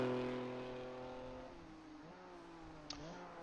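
A BMW M2 race car engine in a racing video game, revving high, then dropping through gear changes as it drives past at moderate loudness, with no talk.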